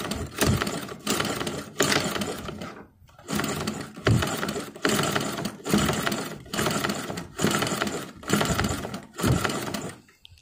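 A new sewing machine stitches fabric in repeated runs of rapid, close mechanical chattering, each lasting about a second, separated by brief pauses.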